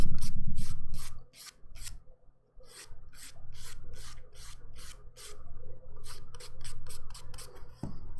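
A buffer rubs back and forth across dip powder manicure nails in quick, regular rasping strokes, close and crisp, in bursts with short pauses between.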